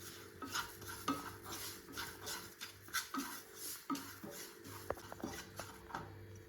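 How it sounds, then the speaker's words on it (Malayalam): A spoon stirs milk powder and sugar together in a bowl, giving a steady series of close scraping, clinking strokes with a light rhythmic patter and no talking. "ഒരു ടേബിൾ സ്പൂൺ പാൽപ്പൊടി, ഒരു ടേബിൾ സ്പൂൺ പഞ്ചസാര നന്നായിട്ട് ഇളക്കി കൊടുക്കും"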